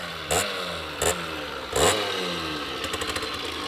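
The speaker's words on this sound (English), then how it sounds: "Check out this classic two-stroke." A 2001 Derbi Senda SM75 two-stroke, premix-only enduro motorcycle revs in three sharp bursts spaced about a second apart, each blip rising loudly over a steady ringing idle, followed by a lighter rattling flutter near the end.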